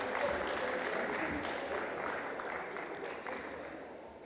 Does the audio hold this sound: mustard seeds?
no